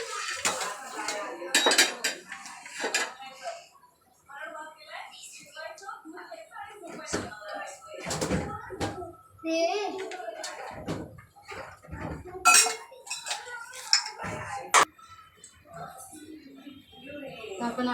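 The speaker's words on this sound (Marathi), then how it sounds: "तव्यावरती अंडे फ्राय करून घेऊया." Eggs fry on a flat tawa amid sharp clinks and clatters of pans and utensils, scattered and close, with a person talking throughout.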